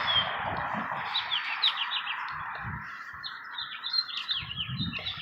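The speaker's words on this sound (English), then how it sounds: "listen to those birds." Several birds chirp outdoors in quick, high tweets and short trills, moderately near, over a soft ambient background with faint low rumbles.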